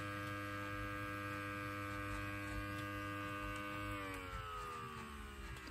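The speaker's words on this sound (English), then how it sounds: "I just need to turn on the blower." A blower runs beside an electronic siren setup, giving a steady droning hum with a layered tonal whine that drops in pitch partway through. It is continuous and close, with no talking.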